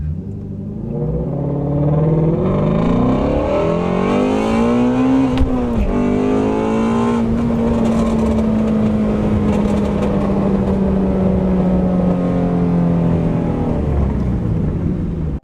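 A Shelby Mustang GT350 engine revs up from a standstill in first gear, pitch climbing steadily through a gear change, then holding a loud, deep roar close by.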